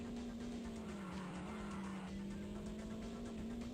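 A rally car in Top Gear Rally on the N64 runs with a steady, buzzing engine drone that holds a near-constant pitch with slight dips, under a faint hiss of tires.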